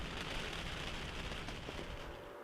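Heavy hurricane rain pours down in a dense, steady roar, loud and close with no break, thick broadband hiss drumming on surfaces and a faint low rumble underneath.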